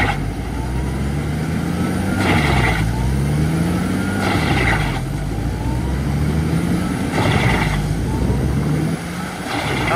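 Tractor-powered wood chipper working through a wet log, a loud continuous engine roar with pitch dipping and rising as the machine bogs and recovers, plus repeated bursts of harsh grinding and crunching from the chipper.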